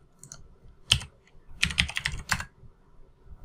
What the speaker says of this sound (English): We can type qgrok